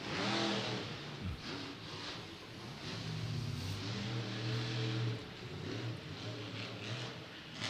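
A monster truck's engine revs hard and continuously at a Monster Jam racing track, a loud, throaty roar that swells and surges as the truck powers around the far side of the course, with no talk.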